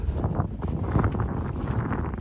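Steady low rumbling wind buffeting the microphone on the Pacific Crest Trail in the cold desert, continuous and fairly loud, with no voices.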